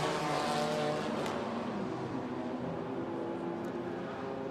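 A safety car circles the track at the Norisring during a DTM Trophy race, its engine a steady droning hum at moderate distance, with a commentator talking over it.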